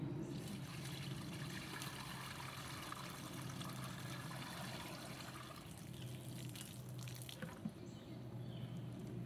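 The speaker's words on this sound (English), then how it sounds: "We're going to let this filter through for the second time, and this will be much clearer when we're done." Water trickles steadily through a homemade survival water filter on its second pass, a faint continuous dribble with occasional drips heard close, without talking.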